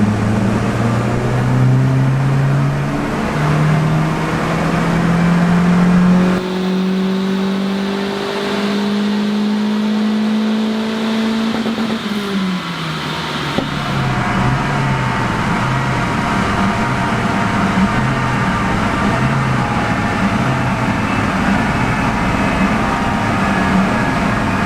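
Ford Focus RS engine held near 2000 rpm and then revved, a loud close droning tone that climbs in pitch, drops back and settles into a steady rumble under continuous mechanical noise.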